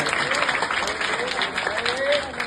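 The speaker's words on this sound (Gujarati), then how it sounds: "આજે જોરદાર તાળીઓ પાડો અમારા યોગેન્દ્ર સર માટે" A crowd at a school Teachers Day celebration claps for a teacher, dense steady applause throughout with voices mixed in underneath.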